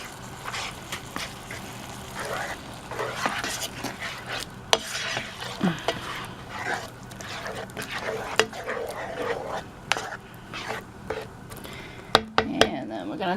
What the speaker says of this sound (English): Alright, I'm going to stir that in.